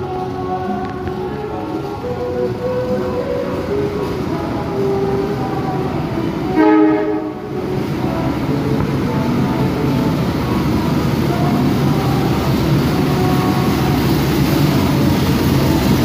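A business-class passenger train pulled by a JJ-201 locomotive runs between Madiun and Surabaya Gubeng. It makes a steady rolling rumble with tonal hums, and there is a brief dip partway through.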